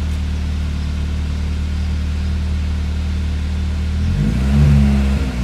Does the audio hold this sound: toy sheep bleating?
no